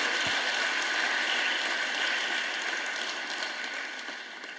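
An audience applauding to welcome a guest at a staff retreat and awards ceremony, a dense, steady wash of many hands clapping that holds for several seconds and then gradually fades toward the end.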